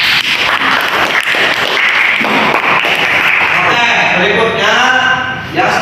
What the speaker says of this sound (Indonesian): Tepuk tangan buat Mas Sultan.